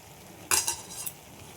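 Green chilies hit a hot pan of moong dal cooking with bottle gourd, giving a few short, close sizzling bursts over a quiet background.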